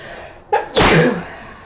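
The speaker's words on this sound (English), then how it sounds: "I was trying to avoid the sneeze. It didn't work." A single loud sneeze bursts out close by, a short sharp intake followed by an explosive burst, then quiet.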